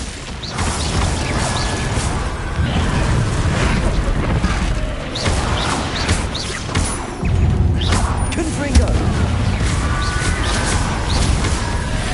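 Glacius freezing spell cast during a Hogwarts Legacy duel, a dense magical blast full of crackling, creaking and booming game effects. It sounds steady and loud, with a sharp surge partway through, and combat noise plays throughout.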